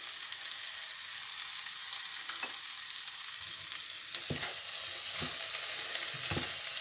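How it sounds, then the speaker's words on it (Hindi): Bhindi (okra) sabzi fries in a pan with a constant hissing sizzle, punctuated by several distinct spatula knocks and scrapes as it is stirred, close up and without talk. "इसी तरह से हमें इसको मिक्स कर लेना है।"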